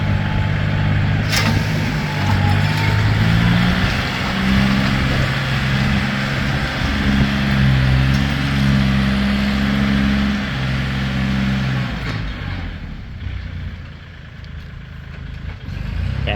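Kubota L4018DT tractor, 2020 model with a three-cylinder direct-injection diesel, runs while plowing, giving a loud steady engine drone with rising and falling tones for about twelve seconds before quieting.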